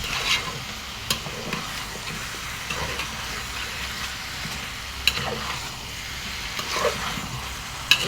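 Chicken liver being stirred and sautéed in a pan, a steady sizzle with scraping strokes and a few sharp clicks of the spatula against the pan, close and moderately loud, no talking.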